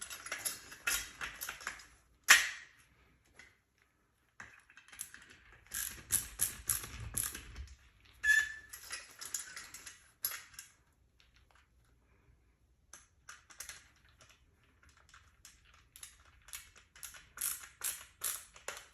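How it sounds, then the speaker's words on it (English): Cord guide being tightened on a Vako 20.04 Roman shade headrail, giving a series of small close clicks and ratcheting mechanical ticks in sporadic bursts separated by quiet gaps. "So I've just tightened this cord guide, so now it's in its place."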